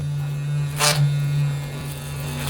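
A Gillette Fusion 5 Power razor buzzes steadily during a shave, a close, constant electric hum with a brief louder scraping burst partway through.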